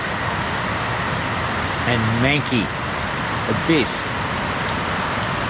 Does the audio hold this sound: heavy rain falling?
yes